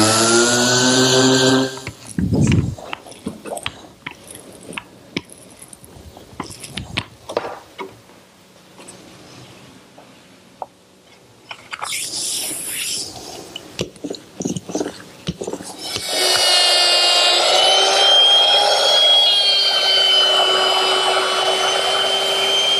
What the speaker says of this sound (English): Sanding the edges of the oak smooth to the particle board assures a good bond for the